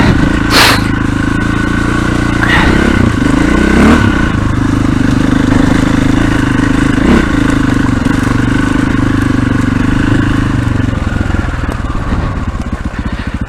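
A 525 dirt bike engine lugs in a high gear while being ridden over slippery rocks, its steady close drone punctuated by a few sharp clatters and knocks from the terrain.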